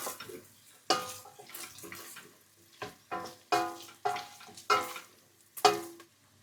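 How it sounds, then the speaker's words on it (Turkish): Boiled beef and onions sauté in a hot pan, sizzling softly under repeated stirring and scraping strokes that come in regular bursts, close and fairly quiet. "1 kilo haşlanmış dana etini koyalım üzerine ve soğanlarla beraber 2-3 dakika kavuralım."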